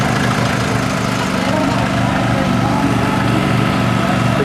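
A 1954 Farmall MTA diesel tractor runs at a parade with a steady, loud engine drone and low rumble that holds constant throughout, with a person talking faintly under the noise.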